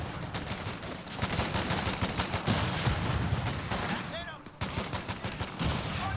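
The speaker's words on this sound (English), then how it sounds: "let's get my artillery involved. Get my mortars on the case." Artillery and mortar fire in the video game Company of Heroes 3, with rapid overlapping gunshot-like blasts and crackling bursts that continue throughout, loud and busy, with a short pause near the end.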